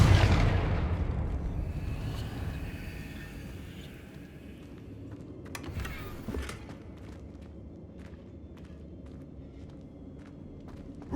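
The Confringo fire spell explodes in the Hogwarts Legacy video game as a loud, close boom that decays into a long rumble, followed by lighter magical crackles and a few sharp ticks.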